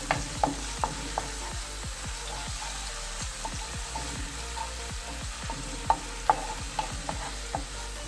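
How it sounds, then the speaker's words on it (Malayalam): Ginger garlic paste sautéing in a pan for a Kerala-style mutton curry, a low steady sizzle broken by repeated scraping strokes and taps of a spoon stirring, fairly quiet and close. "ഇത് നമുക്കൊന്ന് നല്ലപോലെ ഒന്ന് വഴറ്റി കൊടുക്കാം."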